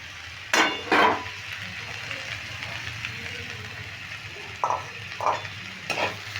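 Chana dal and papaya fry in a pan with a constant low sizzle, broken by several scraping strokes of a spoon against the pan as it is stirred, with quiet talking underneath.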